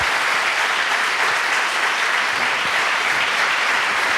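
Steady, loud audience applause for a speaker at a lighting conference event, a continuous wash of many hands clapping with no break and no talk over it.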